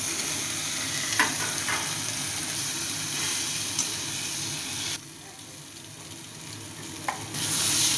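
Fried fish, vegetables, onion paste, chili powder and turmeric frying together in a pan for a Bengali shukto jhol, giving a steady close sizzle with a few scraping stirs; the hiss drops briefly before swelling louder near the end.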